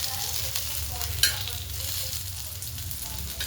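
Roasted onion and masala frying briefly in oil in a pan, a soft continuous sizzle with one sharp scrape or clatter partway through.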